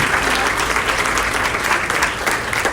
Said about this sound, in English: we're going to clap for them anyway